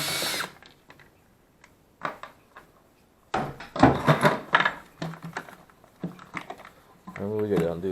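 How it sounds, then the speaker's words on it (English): Cordless drill loosening a bolt on a VW MK5 2.5 water pump hose, several short whirring bursts with clanks and tool handling between them, close by, with someone talking at times. "I'm cheating. I'm using a drill."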